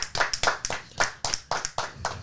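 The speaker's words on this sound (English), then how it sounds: "we gonna give them a hand of applause" A small group claps for two guests on a casual podcast set, the applause coming in distinct close bursts of hand claps with brief gaps between them.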